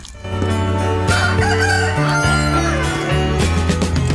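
A rooster crows loudly and up close, its long strained calls repeating one after another without pause.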